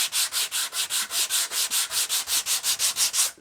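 An 80 grit sanding pad rubs over a wooden guitar body in quick, regular strokes, each a bright scratchy hiss, close up and steady throughout without any voices.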